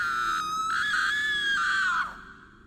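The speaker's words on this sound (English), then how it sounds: "we were suddenly jolted awake by the pleading screams of a woman" A woman lets out a single long, high-pitched pleading scream lasting about two seconds, loud and sustained before it breaks off and falls away, over a low background hum.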